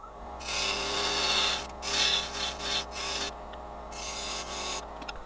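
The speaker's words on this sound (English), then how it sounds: "we'll get in there with the box scraper and try to, obviously we don't want to hit the other chucks, but I do want to clean that" A box scraper cleans a spinning wood block on a lathe with a steady, close, rasping scrape. Short pauses break it into several passes.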